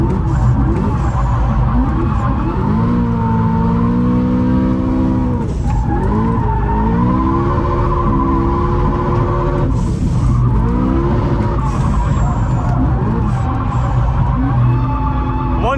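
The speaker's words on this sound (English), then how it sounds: "Once you're familiar with drifting, you can also use the brakes a little bit to slide into the corners like me." A drifting car sliding through corners on tires worn down to the cords, loud sustained tire squeal with wavering pitch and engine drone over nearly sixteen seconds, surging in repeated swells as each slide begins.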